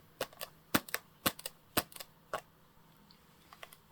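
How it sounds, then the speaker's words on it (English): Red PVC shoes clicked and tapped together in a quiet indoor space, a series of sharp, close clacks in uneven pairs and clusters, loud at first and then thinning out. "You feel like you could just click them together"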